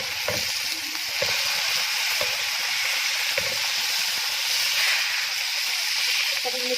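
Masala sizzles steadily in a hot pan with tomatoes and green chillies for bhindi salan, a continuous close frying hiss with occasional soft stirring clicks and no talk.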